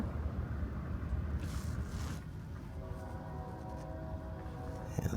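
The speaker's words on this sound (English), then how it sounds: "You can hear a train heading this way." A train heading this way near an almost abandoned small town in Oklahoma, a faint, distant low rumble under wind noise that grows slightly toward the end, no talking.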